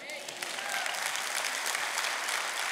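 An audience breaks into brief, full applause during a Spanish-language talk, a short burst of dense clapping lasting only a few seconds.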